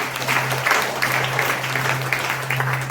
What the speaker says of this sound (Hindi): ताली बजाओ, ताली करो।